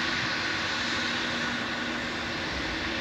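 A Pegasus Airbus A320 at Zurich Airport produces a continuous, fairly loud engine roar with a steady whine running through it, unchanging for the full few seconds.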